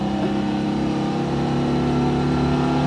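A Citroen 2CV's small engine drones steadily under load on a scenic Welsh country drive, a sustained close-up mechanical hum with no talking.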